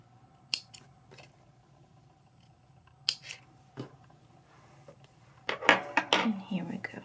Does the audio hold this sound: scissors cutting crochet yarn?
yes